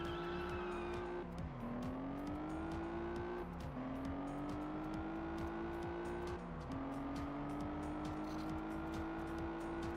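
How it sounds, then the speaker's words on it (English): An Alfa Romeo races in the driving game Test Drive Unlimited, its engine roaring loudly and continuously, climbing in pitch through repeated gear shifts with brief drops between, under no talk. "First time driving this Alfa Romeo here."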